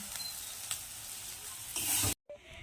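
Cabbage frying with ginger, cumin and chilli paste gives a soft continuous sizzle with light stirring, close but quiet, then a brief louder burst before a sudden cut to near silence.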